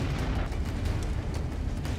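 Kamikaze FPV drone striking a Russian armored personnel carrier, setting it on fire: a continuous heavy low rumble of blast and burning, with repeated dull thuds and crackling bursts sustained at steady loudness, no voices.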